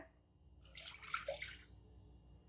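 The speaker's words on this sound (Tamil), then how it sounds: "அதில் ஒரு கப் தண்ணி ஆட் பண்ணிக்கலாங்க" A cup of water is poured into a cooker of milk on the stove, a brief soft splashing pour that swells and fades within a couple of seconds, fairly quiet and with no talking.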